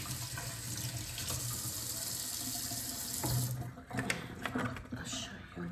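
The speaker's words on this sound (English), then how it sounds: "So let me just wash my hands." Tap water runs steadily as hands are washed under it, a close, continuous splashing that breaks up near the end into scattered drips and knocks.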